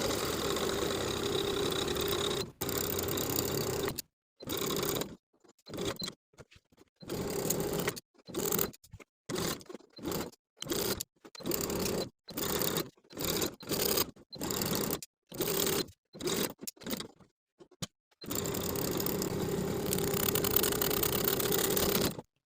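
A sewing machine edge stitches close to the folds of a linen shirt placket, running in steady whirring bursts separated by short silent pauses where the fabric pivots, with a longer continuous run at the start and end.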